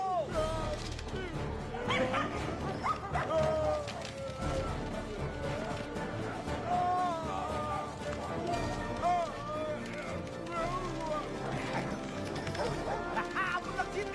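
A dog barks and yips repeatedly in a comedic Bollywood-style dog movie scene, the barks mixed with music and busy voices throughout.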